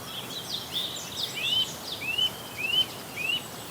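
Eurasian nuthatch calling at a reused tree-cavity nest, a series of about six short, rising whistled notes spaced roughly half a second apart, clear but moderately distant against quiet outdoor background.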